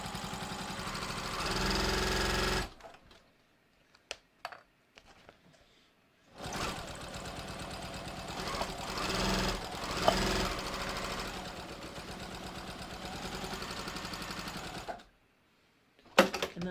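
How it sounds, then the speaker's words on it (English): Sewing machine stitching along the edge of a clear vinyl bag, a close, steady rapid mechanical chatter in two long runs separated by a quiet pause with small clicks and handling sounds, no talk. "I'm just going to sew probably about 1/8 of an inch away from the edge"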